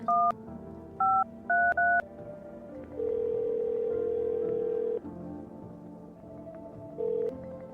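Touch-tone keypad beeps sound in quick succession, single short tones followed by a pair, then a long steady phone tone and one more brief beep, clean and close with a faint hum beneath, dialing a phone in the game No I'm Not a Human.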